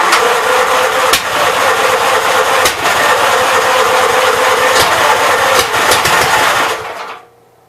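An old engine on a 59 L, flooded with carb cleaner, cranks loud and close for about seven seconds, a rough steady churning roar with a few brief stutters, and never catches before it cuts off into silence.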